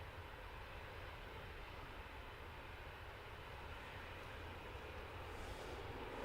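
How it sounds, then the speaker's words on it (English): A Ryanair Boeing 737-800 arriving from Milan at Manchester Airport, a faint, steady distant engine roar spread evenly across the whole stretch with no voices. "Just in the background is a Ryanair arriving from Milan, Boeing 737-800."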